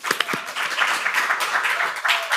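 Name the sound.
audience applause at a poetry reading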